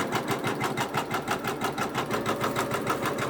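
A Janome MB4-series embroidery machine stitching a quilt-in-the-hoop applique, its needle pounding in a fast, even, rhythmic whir, loud and close with no talk.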